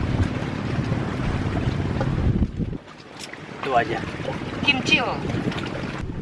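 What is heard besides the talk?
strong wind on a boat at Jatiluhur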